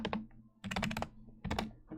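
Clicky keys clatter on a computer keyboard in quick, close bursts of typing separated by short pauses, crisp and fairly quiet with a low hum underneath.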